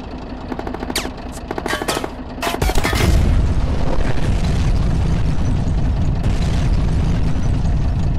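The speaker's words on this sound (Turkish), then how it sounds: "patlamalar çok rahatsız ediyor" Booming explosions and rapid gunfire from the video game Squirrel with a Gun, loud sharp bursts early on giving way to a dense, sustained rumbling barrage.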